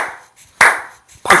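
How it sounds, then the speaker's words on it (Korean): Two sharp, loud hand claps close by, spaced about half a second apart after a softer lead-in tap, demonstrated as a sleep-aid exercise. "박수를 쳐주는 거다."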